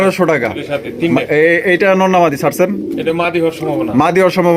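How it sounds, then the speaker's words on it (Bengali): Pigeons for sale at a market coo loudly and close by, their low rolling calls mixed with someone talking throughout. "মার্কেট কাঁপানো এক জোড়া কবুতর দেখতেই পাচ্ছেন"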